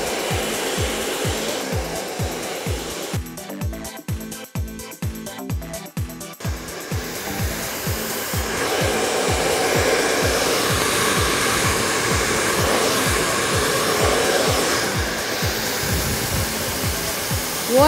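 Hair dryer blasting air while blow drying curls set with flexible hairspray, a steady close whoosh with a rhythmic pulsing texture that runs the whole time and grows slightly louder midway, no talking.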